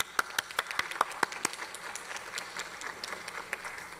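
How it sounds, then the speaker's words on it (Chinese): Legislators in a parliamentary committee room clap for the premier, starting with several sharp, distinct claps and settling into a thinner, scattered patter that fades over a few seconds. "我们掌声跟他鼓励一下，好吧？"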